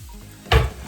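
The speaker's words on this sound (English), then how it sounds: "So we're gonna start by adding the mushrooms into the pan." Baby bella mushrooms drop into a hot pan and burst into a short, loud sizzle after a quiet moment, the hiss fading quickly.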